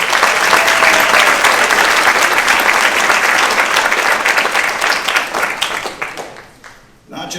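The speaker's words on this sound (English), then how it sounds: "Round of applause for Mr. Jack Woolman." An audience at a seniors' talent show applauds loudly with dense, sustained clapping that slowly thins and fades toward the end before a voice returns.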